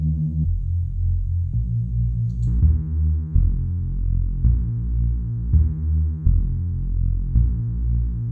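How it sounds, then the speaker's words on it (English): A Reese bass built on the Ableton Live wavetable synth, with an auto filter and a touch of reverb, plays a sequence of deep, throbbing sustained notes that change pitch every second or so, alone and up front. "So that's how you can make your own Reese Bass using the wavetable synth."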